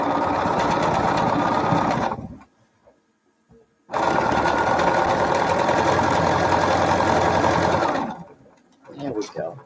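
A sewing machine runs in two steady stitching bursts along a scrap-quilt seam, guided by a presser foot with a small metal edge gauge; the machine is close and loud, stops briefly between runs, and faint movement sounds follow.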